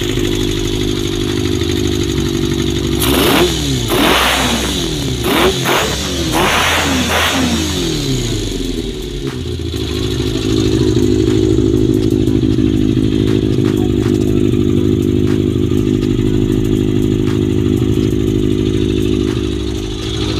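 A Kawasaki ZZR400 motorcycle engine, just fitted with replacement carburetor parts, idles loudly nearby and then revs in several quick throttle blips before settling back into a steady, rough idle.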